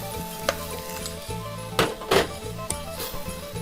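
Minced pork chili paste being stir-fried in a pan after fish sauce is added: a spatula scrapes and clinks against the metal in an uneven rhythm over a soft sizzle, with a few sharper, louder scrapes near the middle.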